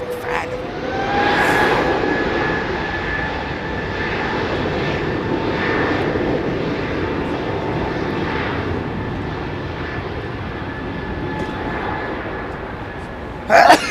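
Embraer E145 regional jet at London Heathrow, its engine roaring as a steady, loud drone throughout, with a brief louder burst at the very end.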